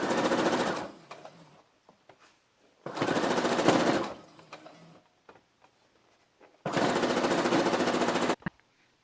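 A sewing machine stitches a strip onto a baby frock in three loud, rapid bursts of needle chatter, separated by quiet pauses with faint handling clicks.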